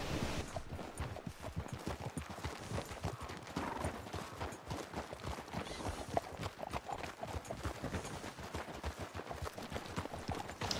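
Horse hooves clip-clopping at a steady walking rhythm on a group trail ride in Red Dead Redemption 2, close and continuous, fairly soft, with no talking.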